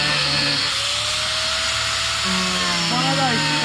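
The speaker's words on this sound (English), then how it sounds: "One of those special plastic blades? Plastic grinder blades." A grinder fitted with plastic grinder blades whines steadily with shifting tonal pitches, working continuously throughout while people talk over it.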